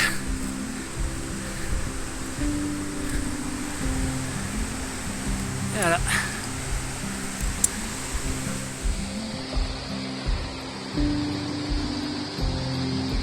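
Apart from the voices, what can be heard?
waterfall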